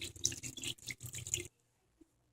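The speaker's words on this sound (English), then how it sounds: "lastly, the liquid. I'm using chicken stock." Chicken stock poured into a pot of Spanish rice in a tomato base, a close, splashing, bubbling pour lasting about a second and a half, then stopping, with one faint drip after.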